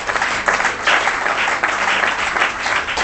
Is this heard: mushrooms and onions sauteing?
no